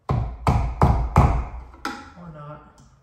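Four quick, hard knocks of a tool against the metal knockout on a new electrical box, evenly spaced and close, then one more strike followed by a ringing, fading tail.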